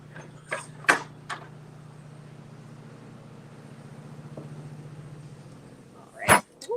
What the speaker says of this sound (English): Sometimes it's big thunk from these doors.